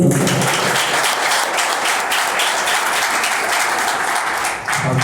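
A church congregation applauds loudly and steadily, a dense wash of many clapping hands holding throughout with a slight dip near the end.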